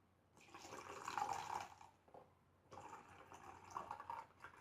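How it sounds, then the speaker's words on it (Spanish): Water poured into a physics prototype in two separate streams with a brief pause between, a soft splashing trickle, quiet and close. "Vamos a comenzar poniendo un poco de agua."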